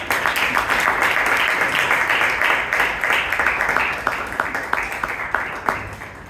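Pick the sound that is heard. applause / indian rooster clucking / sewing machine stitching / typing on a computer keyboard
applause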